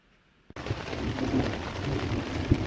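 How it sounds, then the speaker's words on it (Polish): After a moment of quiet and a sharp tap, rain suddenly patters steadily on a camp tarp during a summer storm in a forest, dense and close, with occasional heavier drops. "Już, już słabiej pada. Już chyba trochę przechodzi."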